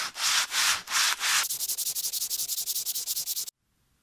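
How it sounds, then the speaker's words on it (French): A sanding block rubs over a green spray-painted surface, first in a few long slow strokes, then in a quick even run of short back-and-forth scrapes, loud and close, stopping abruptly into silence. "Et maintenant, avec une cale à poncer,"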